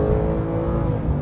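Porsche 911 Cabriolet engine revving high, a loud continuous rasping drone with a dense layered tone, heard up close for a brief moment with no talking over it.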